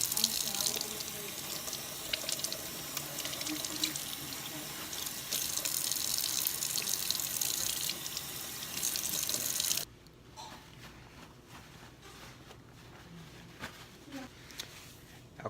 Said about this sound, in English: what I did was I just cleaned off the mushroom some. I didn't mean to like flush, like dump it underwater.